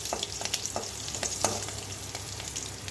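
Chopped onion fries in hot oil with nigella and cumin seeds, giving a soft, steady sizzle with light crackles and occasional stirring scrapes, close but fairly quiet.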